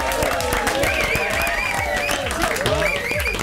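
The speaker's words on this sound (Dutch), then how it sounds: "een applausje voor Nick." Studio audience on a Dutch comedy show claps and cheers loudly and steadily, a close, dense wash of applause with whoops and voices mixed in throughout.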